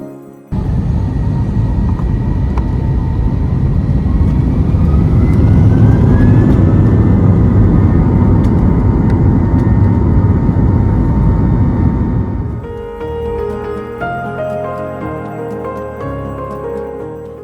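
An airliner takes off from Orlando airport with a loud, steady jet engine roar that swells and holds for about twelve seconds, then drops to a lower, quieter hum as the climb continues.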